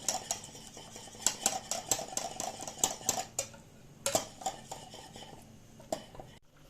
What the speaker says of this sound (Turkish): İyice karıştırıyoruz bu şekilde.